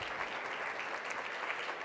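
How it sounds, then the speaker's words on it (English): Conference audience applauding at a nonprofit storytelling event, a steady dense wash of many hands clapping, fairly faint and distant throughout with no break. "give them a round of applause"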